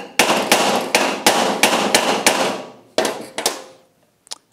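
An impact socket is hammered to drive an input shaft seal into a Mercury 40 HP outboard, with about eight loud, ringing metallic blows in a steady rhythm, then a short pause and two quick lighter taps.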